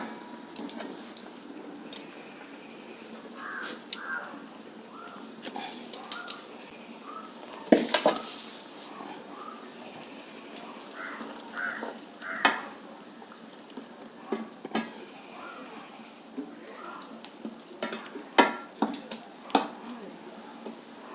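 Sardines dropped into a pot of boiling fish gravy, with sizzling and bubbling plus scattered clinks of utensils and pot over a steady cooking hiss, close and moderately loud.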